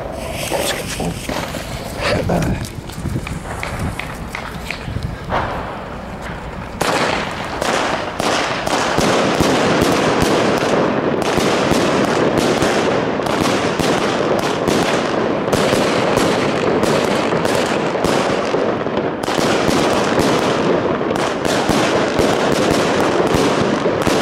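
A 36-shot fireworks cake fires a long rapid volley of sharp bangs in Valencia, one after another at a steady, fast pace, loud and continuous for over twenty seconds.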